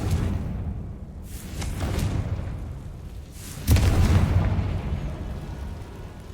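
Confringo fire blast spell going off in the Hogwarts Legacy video game, a fiery whooshing burst with a heavy boom that swells loud near the middle and rumbles on afterward.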